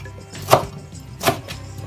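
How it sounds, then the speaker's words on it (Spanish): A knife chops a rolled bundle of fresh mint leaves on a board for baba ganoush. Two short, crisp strikes sound close by with a quiet pause between them, and no one speaks. "La hierbabuena va picadita, así. La haces bolita y la vas picando."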